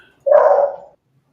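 A dog gives a single close, clear bark, short and sharp, then silence.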